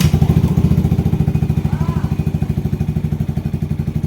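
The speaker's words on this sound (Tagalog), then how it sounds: "paandarin natin itong motor nakababad," A Yamaha Aerox or Nmax 155 scooter engine idles steadily, its rapid, even low thumping pulses continuing loud and close throughout with no talk.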